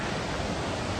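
Chhoie Waterfall in the Tirthan Valley roars with a loud, dense, constant rush of falling water that fills the air without a break.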